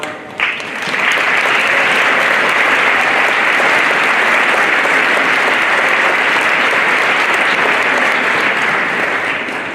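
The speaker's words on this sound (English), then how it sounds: "could you guys just stand up and give them a round of applause?" Sustained applause from a standing school orientation audience honoring the faculty, dense and loud, rising sharply after a brief start and holding steady for nearly ten seconds before easing slightly.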